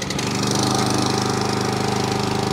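A STIHL RM 655 VS gas walk-behind lawn mower engine running steadily just after starting, giving a loud, continuous, close chugging drone with a rapid regular pulse.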